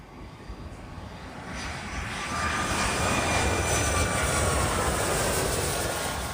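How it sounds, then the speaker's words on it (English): A ski plane lands on ice, its engine noise building into a loud, sustained roar as reverse thrust slows it and kicks up snow, a broad rushing blast that swells and holds steady. "In a plane that lands on ice, you can't just press the brakes, otherwise it's going to skid off. They actually use reverse thrust to stop the plane."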